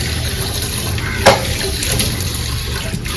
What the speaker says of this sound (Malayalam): അതിനുള്ള എണ്ണ ഒഴിക്കാം.